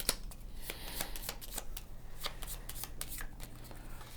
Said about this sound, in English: So that I can shuffle in a random minion.